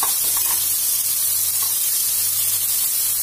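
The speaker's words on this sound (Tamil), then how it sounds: "வெங்காயம் வதங்கட்டும்." Onions sauté in a pan for mint biryani, giving a steady, close frying sizzle and hiss with a low hum underneath, continuous and alone without talk.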